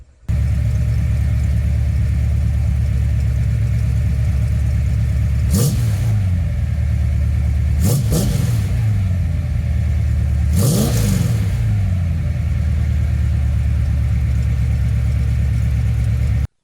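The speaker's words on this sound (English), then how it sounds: "I've tried it out just quickly, just idling and revving in both situations." Car engine idling with a deep steady rumble close by, broken by three short sharp blips of throttle that rise and fall back to idle, while the vacuum advance setup is being compared.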